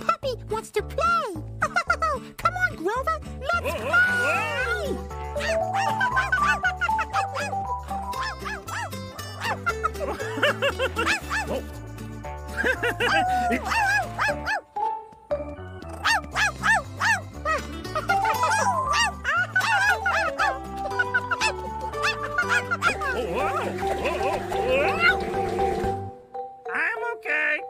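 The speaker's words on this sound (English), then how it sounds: "Ooh, the puppy wants to play!" A puppy yips and barks in short bursts over a steady, bouncy children's song with a thumping beat, the barks mixed in among singing and cheerful music.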